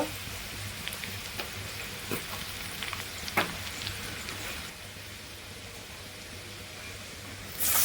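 Cumin seeds and asafoetida sizzle in hot oil for paneer bhurji, a steady crackling hiss with a few sharper pops, close and moderately loud, fading somewhat toward the end with no talking.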